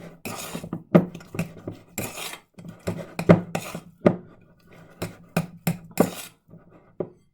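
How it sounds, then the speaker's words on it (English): Brioche dough being mixed by hand in a bowl, with irregular scraping, knocking and tapping sounds in uneven bursts, close and moderately loud. "So I'm just going to give it a bit of a mix in the bowl."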